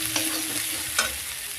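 Ground spices with turmeric stir-fried together in a pan for a drumstick (sajna) curry: a steady close sizzle with two sharp scraping stirs of the spatula, no voices.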